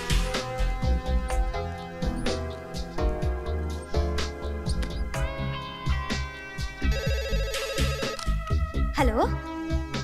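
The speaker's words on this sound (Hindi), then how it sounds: "सर, आपके लिए दिल्ली से अजीत पटौड़ी का फोन आया है।" A telephone gives a brief trilling ring partway through, partly buried under busy music and voices.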